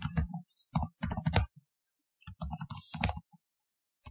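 Typing code on a computer keyboard: quick bursts of close, crisp key clicks in short clusters separated by brief pauses, with no talking.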